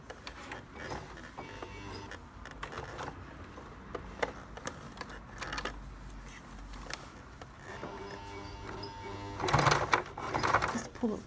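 A sewing machine stitches thick thread while a jean jacket is sewn, a soft, uneven mechanical whirring and ticking running throughout with brief louder bursts near the end, under a person talking.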